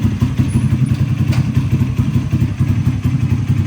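A Delta YX 160 motorcycle engine runs close by at a steady idle, a loud, even, low mechanical thrumming with a light rhythmic clatter and no break across the whole stretch.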